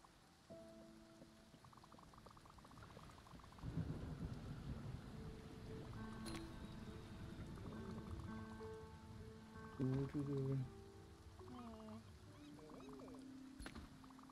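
Rain and rumbling thunder from a storm in the video game Spiritfarer, a low steady wash with swells of heavier rumble, layered with soft game tones and music notes.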